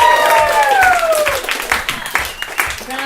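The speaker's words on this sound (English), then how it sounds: "Please, big round of applause for Abby Rosenquist, everybody!" A comedy show audience claps and cheers for a few seconds, the applause steady and fairly loud with some whoops and voices mixed in.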